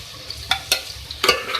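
Half-cooked potato cubes frying in hot oil while being stirred, giving a low sizzling bed broken by a few sharp scraping and clinking bursts, close and moderately loud, with no talking.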